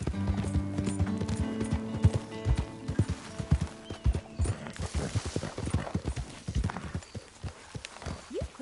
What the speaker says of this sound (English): You've clearly been looking after that horse.